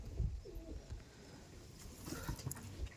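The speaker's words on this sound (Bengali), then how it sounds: "দেখুন জাস্ট পায়রাগুলো দেখুন।" Giribaz Teddy pigeons coo softly at close range, low murmuring calls mixed with light rustling and small taps and no voices.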